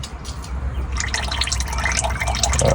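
Motor oil drains from a Ford F150 into a drain pan, making a steady, close liquid pouring and splashing that grows slightly fuller over a low background rumble.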